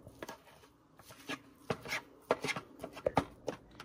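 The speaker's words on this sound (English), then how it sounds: "use this whisk to smash it all up" A whisk mashing boiled egg into bite-sized pieces in a bowl, a series of close, irregular tapping and scraping strikes that grow louder and quicker toward the end, with no talking.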